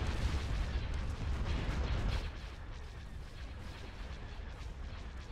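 An artillery barrage in a Star Wars Imperial Civil War battle, heard as dense rumbling booms and crackling blasts that merge into a loud continuous roar, easing to a lower sustained rumble after a couple of seconds.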